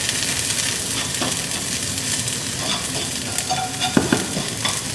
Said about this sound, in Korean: 당근이랑 양배추 정도만 먼저 볶도록 할게요.